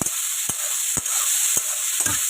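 Onion and tomato fry in hot oil, giving a continuous bright sizzle with sharp spluttering pops roughly every half second, close and fairly loud, with no voices.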